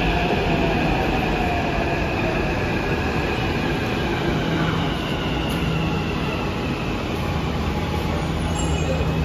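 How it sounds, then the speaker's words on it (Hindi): Steady rumbling of a Hyderabad metro train in motion between Dilsukhnagar and Miyapur, a continuous broadband roar with faint wheel squeal, loud and close throughout with no talking. "metro train"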